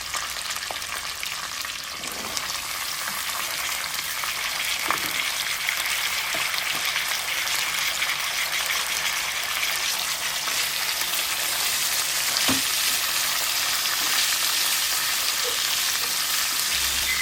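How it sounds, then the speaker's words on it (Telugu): Vegetable pieces for dal khichdi fry in a pan with a continuous, close, even sizzle and crackle, broken by a few soft stirring knocks. "ఇందులోనే మొత్తం కూరగాయ ముక్కలన్నీ వేసుకుని బాగా వేయించుకోవాలి"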